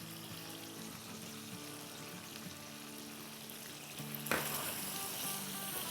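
Karahi meat frying with Kashmiri red chili, giving a soft continuous sizzle with faint stirring scrapes and a brief louder burst of hissing near the end; no talking.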